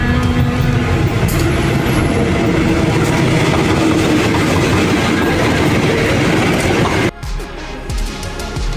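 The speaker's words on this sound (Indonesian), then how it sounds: "Nah, ini keretanya datang." A passenger train arriving at the station, with a loud steady rumble and rhythmic clickety-clack of wheels on rails for several seconds, then easing off abruptly as it slows.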